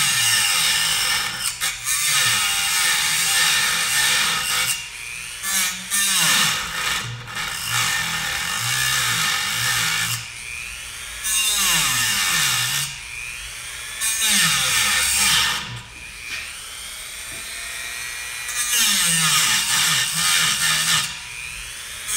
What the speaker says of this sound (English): I'm gonna go ahead and use the Dremel on low speed